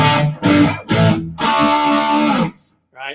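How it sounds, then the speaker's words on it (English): Loud distorted electric guitar: a few choppy, gritty chords, then one long sustained note that rings out before cutting to silence. "I'll put the distortion back on for this part"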